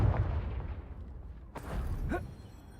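A Confringo blasting spell explodes in a Harry Potter video game, a deep rumbling boom that fades, then a sharp crack with a short rising whoosh, all close and loud.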